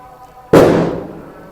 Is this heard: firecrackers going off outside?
yes